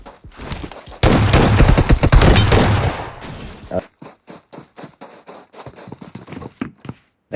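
Gunfire in the mobile battle-royale game PUBG Mobile erupts as a dense, loud automatic burst lasting about two seconds, followed by a run of sharp, evenly spaced single shots and footstep-like thuds that grow sparser.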